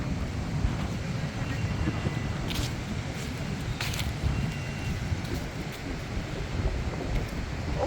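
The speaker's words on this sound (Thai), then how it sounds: "ลมแรงเลย" Strong wind buffets the microphone on a Phuket seashore, a steady close roar and rumble that holds through the whole stretch with no talk over it.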